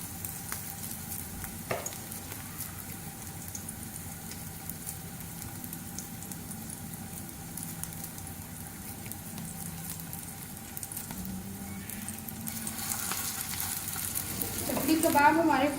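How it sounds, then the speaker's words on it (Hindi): Peshawari chapli kababs sizzle in hot oil over a medium flame, giving a steady close crackle and hiss that continues throughout, with some stirring or utensil scraping and a louder burst of sizzling near the end. "चपली कबाब हमारे फ्राई हो रहे हैं मीडियम फ्लेम पे"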